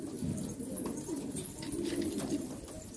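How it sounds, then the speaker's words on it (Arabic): Pigeons coo steadily while feeding on grain scattered on the ground, a soft, continuous low murmur from a flock of about fifteen birds, close and fairly loud with no talk. "بالنهايه انه الحمام بتاكل قاعده"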